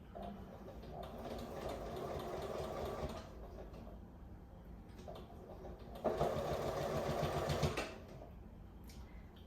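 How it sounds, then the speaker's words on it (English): A sewing machine stitches a quilted cover in two runs of whirring, a longer one followed by a pause and a louder, shorter burst, close by with no talking. "now I need to start moving this arch as I sew"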